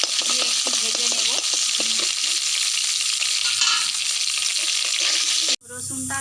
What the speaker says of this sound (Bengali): এই তেলেতেই রসুন কুচি দিয়ে দেবো, দিয়ে একটু ভেজে নেব।